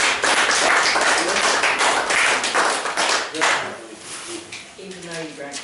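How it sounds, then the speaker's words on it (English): A room at a small-town board of aldermen meeting claps for the disaster operations chief, scattered hand claps over several seconds, with voices talking over the applause as it trails off. "I think he deserves a round of applause"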